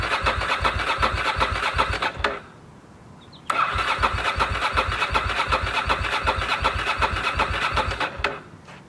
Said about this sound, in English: So let's see if it starts.